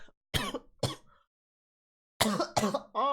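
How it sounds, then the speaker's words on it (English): A man coughs and clears his throat in a few short, close bursts with a silent gap between them, heard alone and fairly loud. "Was this the first time I've coughed in this fall?"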